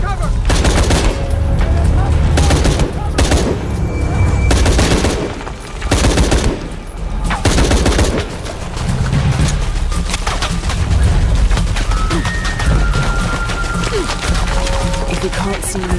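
Sustained automatic gunfire and heavy shots in a Tomb Raider combat scene, loud rapid bursts broken by short pauses, with enemy voices shouting over the shooting.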